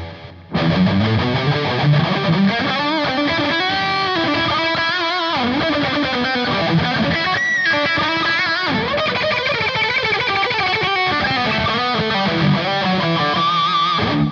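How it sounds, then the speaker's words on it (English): Overdriven electric lead guitar played through a HeadRush with stereo-spread delay, a continuous loud singing solo with repeats washing out wide behind the notes, no voices. "Let me just show you what it sounds like if you spread it a little bit"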